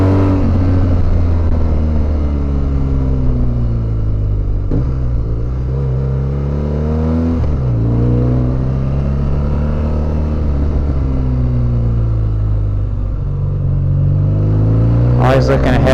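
BMW R1200GS Adventure motorcycle riding on the road, a steady loud engine drone with wind rumble and a few gear shifts, heard from the rider's position throughout.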